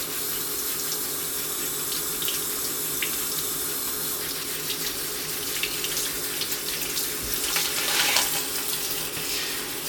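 Warm tap water runs steadily into a plastic bin holding plastic pellets, a continuous close splashing rush that swells slightly near the end.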